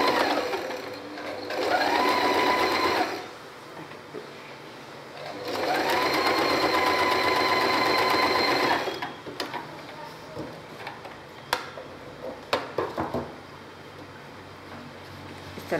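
A sewing machine stitches a child's Peter Pan-collar frock in two sustained whirring runs of about two and three seconds, followed by scattered clicks and taps as the fabric is handled.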